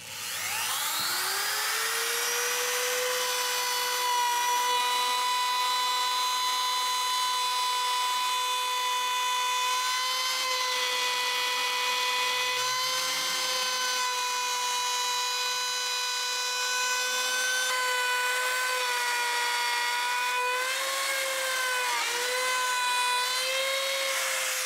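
A router with a small-bearing trim bit cuts the edge of a Corian solid-surface ramp sink, spinning up to a loud, sustained high whine that holds steady and wavers slightly as the bit moves along the material.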